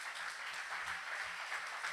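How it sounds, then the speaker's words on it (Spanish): A congregation applauds at a church miracle service, a dense, steady roar of many hands clapping together that holds evenly for the full two seconds with no pause. "Denle otro fuerte aplauso al Señor."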